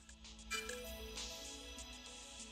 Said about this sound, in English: I've had a few Nintendo Wii tunes as well. They make for really good ringtones.